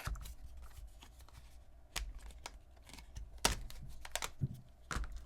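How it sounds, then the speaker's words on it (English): Outer plastic shell of an OtterBox case being peeled off an iPhone 17 Pro Max, giving a run of faint close clicks and snaps, with a few sharper cracks near the middle and toward the end, all alone without talk. "So we'll just kind of peel this outer shell off."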